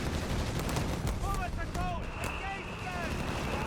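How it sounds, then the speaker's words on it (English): Mortar fire rains down in a Company of Heroes 3 multiplayer battle: whistling incoming shells and dull impacts sit inside a constant wash of combat noise, with no clear break. "Mortar fire landing in here."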